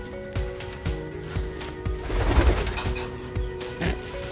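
A pigeon being offered at auction coos repeatedly in a rhythmic series of soft, low, throaty calls, close and clear over a faint background hum.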